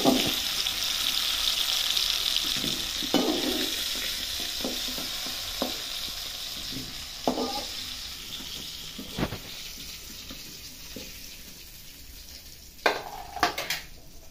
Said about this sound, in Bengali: আমি আলুটা দেখছি ভালো করে ভাজা হয়ে গেল।